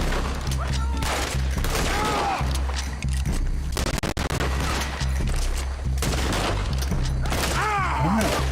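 Gunfire in the Western video game Red Dead Redemption 2: repeated loud shots and volleys over a dense, continuous game soundscape, with bursts scattered irregularly throughout.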